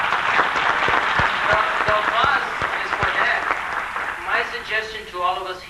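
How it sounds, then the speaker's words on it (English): A seminar audience applauds with a strong burst of clapping that tapers off, and a voice begins speaking over the fading claps near the end. "So, the applause is for that."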